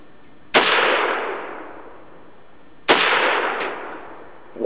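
Two loud rifle shots ring out during outdoor target shooting, each with a long echoing decay, and a third blast begins at the very end, with no talking.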